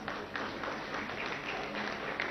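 An audience claps together at the inauguration of an Alpla mould shop, a dense, steady patter of applause that stays loud and even for a couple of seconds.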